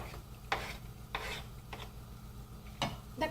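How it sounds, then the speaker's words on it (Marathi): Chopped onion tipped into a pan for egg bhaji, a few separate scraping, rustling swishes of a spoon against the pan, spaced unevenly over a steady low background. "सगळा कांदा मी ह्याच्यात टाकत आहे"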